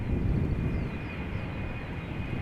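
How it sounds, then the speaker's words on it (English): A KLM Boeing 777-200 outbound from Amsterdam Schiphol gives off a broad, steady jet roar with a faint high whine, heavy low rumble throughout and buffeted by wind. "KLM flight 895, 777-200, outbound to Shanghai, 16 years old, first flight January"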